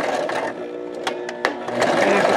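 A sewing machine stitches a linen pocket in a short run, its needle clattering in quick close ticks over a steady motor hum.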